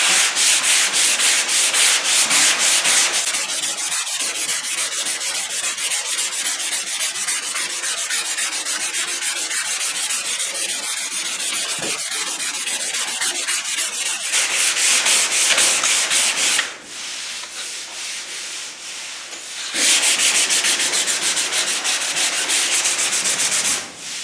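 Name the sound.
block sanding body filler on car bodywork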